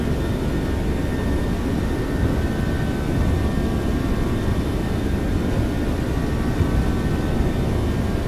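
Jet engines of a Level Up 737-700 in the X-Plane flight simulator roar steadily and loudly through the takeoff roll, a dense continuous rumble with faint high tones.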